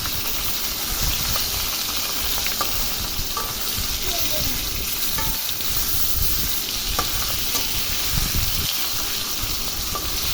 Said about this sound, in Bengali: এই যে মাছগুলো এখন ভেজে নেব, সবগুলো মাছ দিয়ে দিয়েছি কড়াইতে